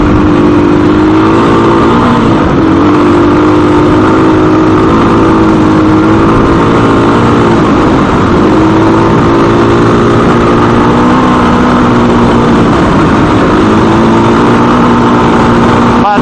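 Sustained, loud motorbike engine droning while riding through moist sand, its pitch rising and falling slightly with throttle, with wind buffeting and a voice talking over it.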